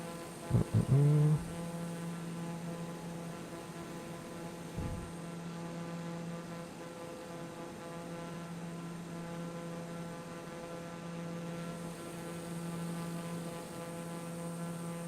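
Steady propeller-plane engine drone inside Microsoft Flight Simulator 2020 on a flight over Italy, a constant low hum with a couple of brief thumps near the start, otherwise unchanging throughout.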